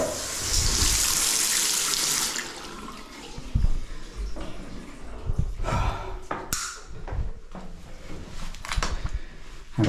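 Water turned back on at a tap in a gents' toilet after a plumbing repair, a steady rushing flow at first that eases into intermittent splashing and gurgling, close by.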